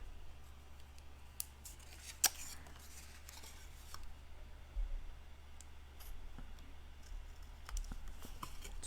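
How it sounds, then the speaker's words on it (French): Scissors cut away excess paper while a pocket album is being made: a few sharp, faint snips spaced apart over a quiet background. "Tout simplement, on vient couper ce qui dépasse."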